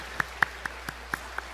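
Six slow, evenly spaced claps sound in a church during a Sunday service welcome, crisp and fairly close, with quiet between each.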